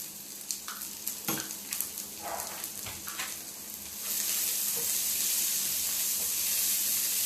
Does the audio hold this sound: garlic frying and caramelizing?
yes